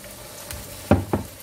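Spice paste sizzles steadily in a hot pan for an Indonesian rawon-style dish, with two sharp scraping clunks from stirring near the end.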